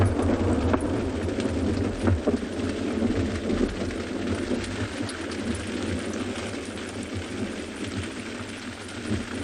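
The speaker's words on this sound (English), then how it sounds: "That lightning strike was right above us." Loud thunder from a lightning strike directly overhead, a sustained heavy rumble filling the scene with no voices.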